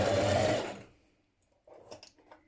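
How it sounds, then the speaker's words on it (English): A sewing machine runs a steady close stitch around the facing of a dress for under a second, then stops; after a short quiet gap come faint handling clicks and rustles. "we're stitching a couple of millimetres away all the way around"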